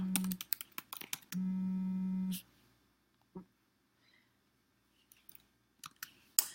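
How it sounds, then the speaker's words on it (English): Someone types on a computer keyboard, producing a quick cluster of close, crisp key clicks followed by sparse, isolated taps separated by a steady hum and long quiet gaps. "I'm going to type it out."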